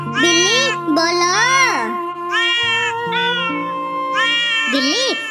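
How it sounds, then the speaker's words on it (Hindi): Kittens meowing for their mother cat: a string of loud, close, drawn-out meows with rising and falling pitch, following one another with barely a pause. "बिल्ली आपके आपके बच्चे आपको बुला रहे हैं"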